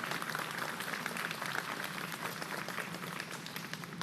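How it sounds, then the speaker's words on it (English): A crowd at a mayoral Lunar New Year school holiday event in New York City applauds its community leaders with steady, fairly faint clapping that carries on without a break. "let's give a round of applause to all the leaders standing here who made it possible"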